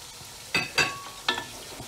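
Three medium tomatoes go into a hot pan and are stirred, giving a couple of quick sizzling bursts and a short scrape, close and brief.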